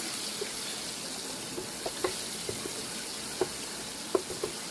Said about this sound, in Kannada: ಒಂದೆರಡು ನಿಮಿಷ ಫ್ರೈ ಮಾಡಬೇಕು